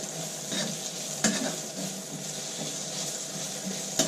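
Onions with garam masala sizzling in a frying pan while being stirred, giving a soft continuous crackle with a few sharp scrapes of the utensil against the pan, close and without voices.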